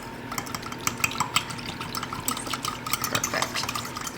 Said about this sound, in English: I'm going to give it a good mix.